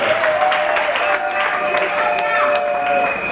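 A crowd at a religious wedding claps and applauds steadily, a dense even wash of hand claps, with voices mixed in.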